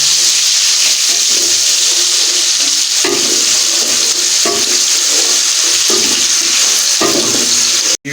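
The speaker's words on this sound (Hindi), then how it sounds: "अभी हम इसमें प्याज ऐड करेंगे। प्याज को फ्राई करेंगे, मामूली गोल्डन फ्राई करेंगे।" Onions fry in hot oil in a pan, giving a loud, continuous sizzling hiss broken by periodic stirring scrapes, with no talk.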